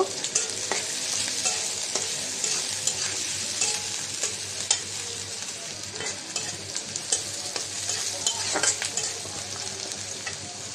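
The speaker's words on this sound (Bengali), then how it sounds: "কাঁচামরিচ, পেঁয়াজটা ভেজে নেব।" Continuous sizzling and crackling of onion and green chili frying in a pan, with occasional scrapes and clinks of stirring, close and fairly quiet, no talking.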